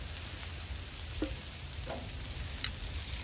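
Sausage fries in a pan greased with its own juices for stuffed peppers, a steady soft sizzle with a few small clicks and pops and no talking.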